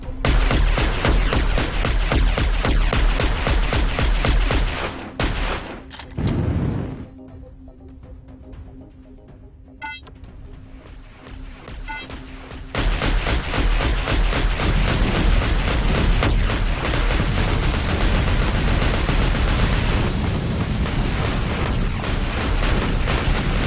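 Artillery bombardment in the video game Heavy Gear Assault, a dense, continuous barrage of loud booms and blasts that drops away briefly to a quieter lull before the heavy pounding resumes.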